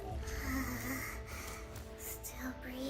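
A slow, rough snoring breath rumbles close and fairly faint, with a few snorting, wheezy inhalations under a murmuring background.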